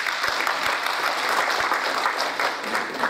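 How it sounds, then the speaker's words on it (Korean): A seminar audience of a Korean dry-cleaners association claps warmly, steady, dense applause from a modest-sized room, fairly close and even, with a few sharper individual claps standing out. "여러분들 뜨거운 박수로 한번 보내주시면 대단히 감사합니다"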